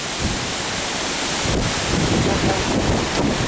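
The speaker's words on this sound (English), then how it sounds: "Did you see that wall of rain coming at us?" Heavy rain and strong wind from a tornado storm in Pleasant Grove, Alabama roar in a dense, constant wash that buffets the microphone, growing slightly louder near the end, with no clear speech.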